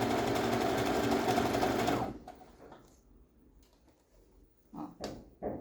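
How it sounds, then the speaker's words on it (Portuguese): A sewing machine runs steadily in a straight, slightly elastic stitch along the edge of lace for panties, loud and continuous for about two seconds before stopping, followed by quiet handling clicks and rustles. "E aí eu já vou começar a iniciar a minha costura."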